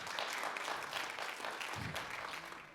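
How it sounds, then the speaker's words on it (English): Applause from a seated audience at a Kwanzaa festival gathering, a steady wash of clapping lasting a few seconds at moderate distance, fairly even in level throughout. "please give her a round of applause"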